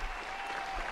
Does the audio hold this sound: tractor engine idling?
no